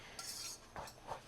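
A spoon scrapes around a pot of egg white oats in a few quiet, separate strokes with a faint metallic clink, with no talking.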